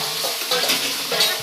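Mutton cooking in a pan gives off a close, steady sizzle with soft stirring scrapes over a brief moment.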